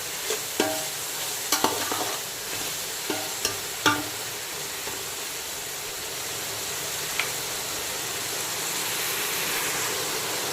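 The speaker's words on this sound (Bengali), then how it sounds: "আর দেখতেই পাচ্ছ সমস্ত সবজি কিন্তু প্রায় ভাজা হয়ে এসছে" Vegetables stir-fry in a pan for mixed fried rice: a steady close sizzle, with several sharp spatula scrapes and knocks in the first few seconds, then mostly even frying noise.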